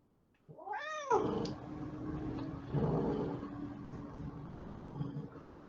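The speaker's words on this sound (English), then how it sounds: "It's my roommate's cat, actually. His name is Charles, and he's definitely hungry for my attention right now." Charles, a house cat, lets out one loud, close, rising-and-falling meow, followed by softer rustling and faint vocal sounds in a quiet room.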